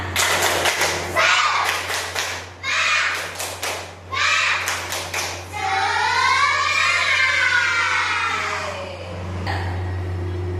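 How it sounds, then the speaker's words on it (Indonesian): A primary classroom of children performs a rhythmic 'tepuk semangat' clapping routine: loud, close bursts of quick claps in patterned groups, then the class chants together in unison over a steady low hum. "Kita tepuk semangat dulu."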